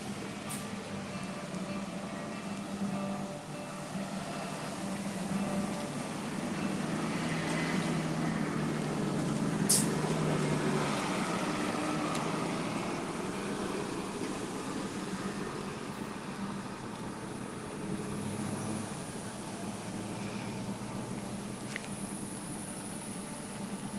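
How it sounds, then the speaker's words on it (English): Morning street traffic passes outside with a steady, low rumble of engines and tyres. It swells louder in the middle and then eases, with no talk over it. "Traffic accompaniment this morning, you know?"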